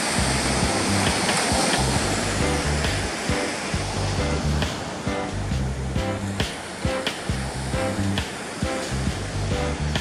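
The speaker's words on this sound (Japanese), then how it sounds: "いい感じのうねりがインサイドから割れてますね。" Waves breaking onto a Sea of Japan surf beach on a calm, windless morning, a continuous roaring wash of surf with repeated crashes and foamy rushes, close and fairly loud, with no voices.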